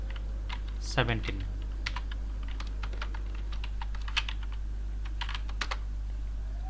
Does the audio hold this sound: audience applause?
no